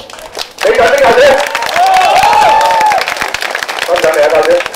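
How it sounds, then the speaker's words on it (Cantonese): An audience claps and cheers for a speaker at the opening ceremony of a district office, a dense burst of applause with a voice calling out over it. "俾掌聲，教主！"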